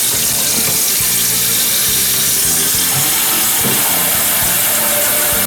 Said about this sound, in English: let's fill our pot with water.